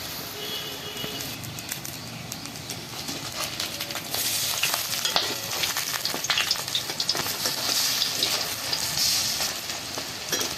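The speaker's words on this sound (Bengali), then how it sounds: "এবার বড়াগুলোকে ভেজে নেব" Gandal leaf kopta fritters frying in hot oil in a wok make a continuous crackling sizzle that grows louder partway through, close and unbroken, with no one speaking.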